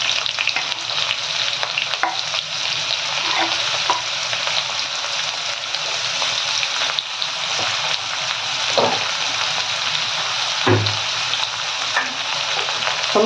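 Finely chopped onions fry in a pan for Punjabi-style sarson saag, giving a dense, steady sizzle close by, broken by occasional stirring scrapes and clinks, with no talking.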